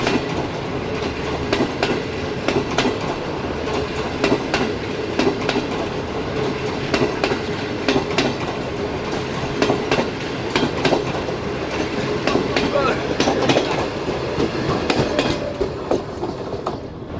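A passenger safari train running between Rawalpindi and Attock, its wheels beating a steady clickety-clack on the rail joints under a constant rumble, close and continuous throughout.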